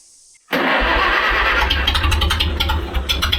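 A vintage machine's engine, choke applied, cranks and catches at about half a second, then runs on loudly with a steady low throbbing idle for the rest of the clip.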